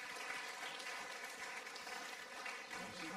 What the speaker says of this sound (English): May we give you a round of applause